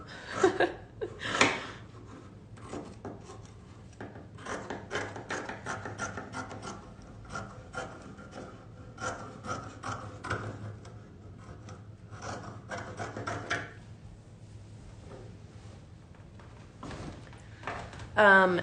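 Scissors cut fabric around a 7-inch embroidery hoop with irregular close snips and rustling, while a person talks quietly in between.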